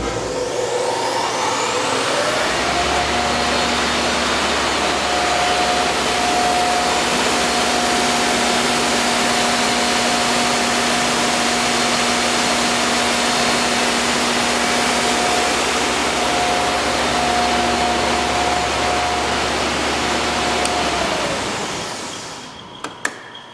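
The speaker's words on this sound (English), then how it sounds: "In the background, my heater is firing up behind me" A workshop heater fires up and runs as a loud, steady roar with a constant hum running through it, then winds down near the end.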